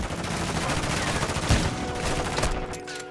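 Dense video game gunfire from a sniper match, a continuous burst of rapid shots with one heavier bang near the middle, loud and close throughout.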